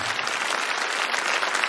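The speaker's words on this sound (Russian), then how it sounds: "Юсиф Ильназов, ваш аплодисмент." Concert audience applauding a singer, a brief burst of dense, even clapping from a large crowd, loud and sustained with no talk over it.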